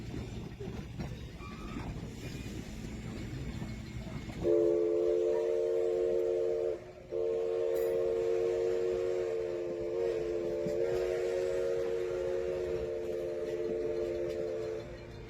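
A steam train runs along the northern shore of Tillamook Bay on the Oregon coast, a steady rumble of the moving train under a long, loud, sustained steam whistle blast that breaks briefly and resumes.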